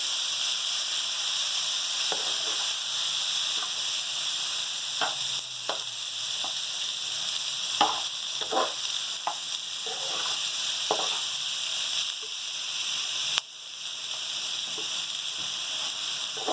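Chillies fry in a pan as achari spice masala is stirred in, a steady close sizzle with scattered scraping and clinking stir sounds over it.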